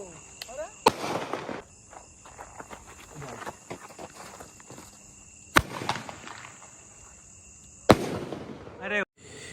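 Firecrackers and sky shot fireworks set off outdoors, with sharp loud bangs near 1, 5.5 and 8 seconds and crackling pops between, while people talk and exclaim throughout.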